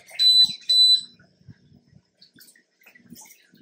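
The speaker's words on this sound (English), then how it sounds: "So anyhow, it's now beeping." A water level sensor alarm beeping to signal low water, two sharp high-pitched electronic beeps at the start, loud and close, followed by faint clicks and handling noise.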